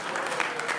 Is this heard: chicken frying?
no